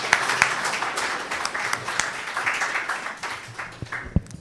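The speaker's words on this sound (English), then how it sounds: "Round of applause." Conference audience at a research conference session applauds a finished talk, a steady moderate patter of many hands clapping in a hall that trails off with a few last claps.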